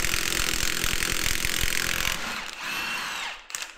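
A Milwaukee 2864-20 3/4-inch cordless impact wrench on an XC8.0 battery hammers loose Duramax diesel head bolts, a loud, rapid, close rattling burst that then winds down and stops.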